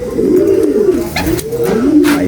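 Racing pigeons cooing close by, several rolling, wavering coos overlapping in a continuous loud burble, with soft rustles and knocks between them.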